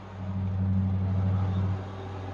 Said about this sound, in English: has decided to mow the lawn and be right next to my building when I get home.